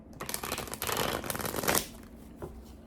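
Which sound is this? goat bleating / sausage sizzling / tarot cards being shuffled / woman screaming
tarot cards being shuffled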